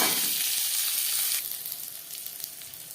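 Sour mango pieces frying in hot oil for a dal, a loud steady sizzle that eases to a softer crackle partway through, with no talk.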